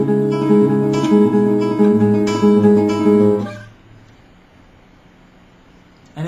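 Finger-picked nylon-string guitar chords from Concerto de Aranjuez by Rodrigo, a few rich plucked strums ringing close, then fading to near silence.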